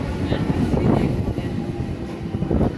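A train bound for Digha rumbles at Nandakumar station, a low, heavy rolling drone with steady mechanical throb, close and continuous, with faint voices mixed in.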